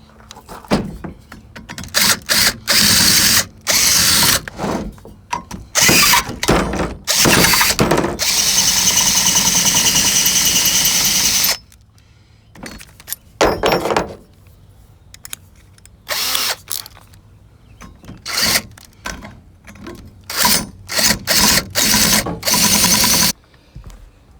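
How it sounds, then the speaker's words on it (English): A power drill whirs in repeated bursts of varying length, drilling out a hardened stud on a 1985 Ford F-250, stopping and starting, close and loud, with brief quiet gaps between runs. "So after a half hour of drilling on this, all I did was dull 2 drill bits."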